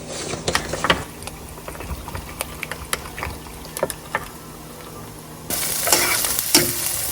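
Spice powders, turmeric, chili, roasted curry powder and coriander, frying in a pan while being stirred, with sharp scraping clicks of a spoon over a low sizzle that grows louder and fuller toward the end.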